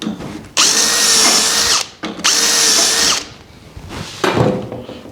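A power drill bores holes into the wooden rail of a bedroom dresser, loud and close, in two long steady whirring bursts followed by a shorter, weaker third run.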